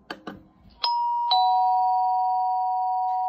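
An In tune MP3 doorbell at its high volume setting rings one loud, sustained electronic chime that holds steady after a couple of brief clicks.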